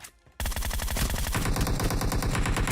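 Rapid automatic gunfire in the PUBG video game bursts in after a brief quiet moment, then continues as a dense, loud rattle of closely spaced shots to the end.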